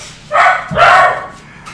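Two loud, close dog barks follow one another quickly, each a bright yelping bark, with near silence around them.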